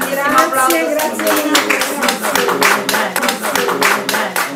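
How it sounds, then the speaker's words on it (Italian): An audience applauds at a Maggio dei libri book event, steady scattered handclaps filling the room while voices talk over them. "Allora un altro grandissimo grazie, applauso."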